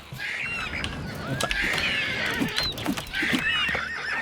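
A horse in the video game Oblivion neighs loudly and close, with shrill, wavering whinnies and snorts that repeat across the few seconds over a busy game background.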